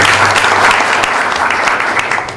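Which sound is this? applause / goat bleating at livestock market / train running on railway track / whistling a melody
applause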